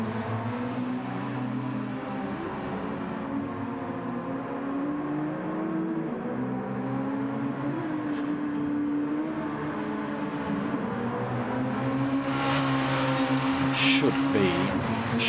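Classic DTM race cars circle the Nürburgring Sprint Circuit in a racing game, with engines droning and shifting pitch steadily throughout, and a voice talking over the engine noise.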